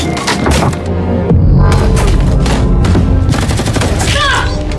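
A film shootout plays loudly, with gunfire crackling in dense bursts over a throbbing, humming score, continuous and up close for several seconds.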